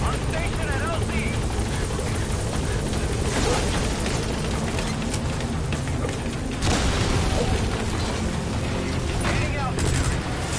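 In Metal Gear Solid V, a support helicopter arrives at the landing zone, its rotor chopping loud and continuous close by under radio chatter and bursts of combat noise.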